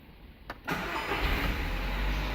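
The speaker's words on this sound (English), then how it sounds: "now if I put my ignition key into the ignition and turn it on, we have ignition" A car engine starts as the ignition key is turned, with a short click and crank followed by the engine catching and settling into a steady, close idle.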